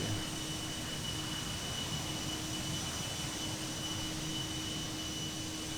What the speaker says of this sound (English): When I'm outside, the engine noises are